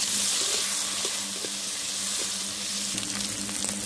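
Half-boiled potatoes fry in oil in a kadai, giving a steady, dense sizzle with scattered soft pops and a faint clink of stirring near the end.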